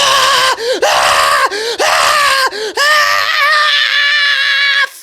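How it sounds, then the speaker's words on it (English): A drawn-out human scream of anger let out while driving, several loud sustained yells broken by short breaths, the last held for about two seconds, close and harsh. "It's a motherfucking car scream."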